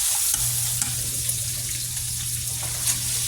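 Potatoes for breakfast burritos frying in a pan, giving a steady close sizzle with a low continuous hum underneath and a few faint stirring clicks, no talk.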